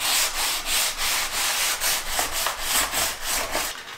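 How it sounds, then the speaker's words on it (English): Wood being sanded by hand with 220 grit sandpaper wrapped around a sanding block, a steady series of close, rhythmic raspy back-and-forth strokes filling the whole stretch with no talking. "now that we've sanded this down"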